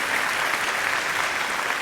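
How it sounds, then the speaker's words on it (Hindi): Steady, dense audience applause at an Urdu poetry and music tribute evening, loud and continuous with no gaps or talk over it. "तालियां बजती रहनी चाहिए"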